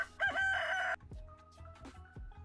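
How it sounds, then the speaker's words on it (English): Marnie's rooster in Stardew Valley crowing one loud game-audio cock-a-doodle-doo, followed by softer background clucks and low farm ambience. "Marnie's rooster."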